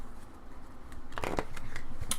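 Oracle cards being shuffled by hand, a soft papery riffling that swells into a louder burst of flicking and slapping midway, close and alone.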